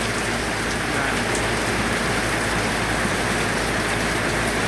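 Heavy storm rain falls steadily, a dense, even roar of drops hitting surfaces all around, loud and unbroken throughout.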